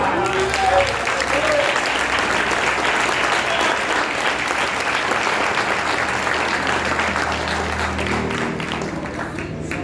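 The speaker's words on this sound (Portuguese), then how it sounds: "Glória a Deus, aplauda o nome do Senhor" Church congregation applauding during a worship service, a loud and sustained crowd clapping that continues evenly for the full length and eases slightly at the end.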